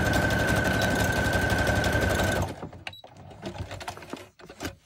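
A sewing machine runs steadily as it stitches fabric for Halloween tags, a loud, close, even mechanical whirring with a faint tone that stops halfway through, followed by scattered handling clicks and rustles.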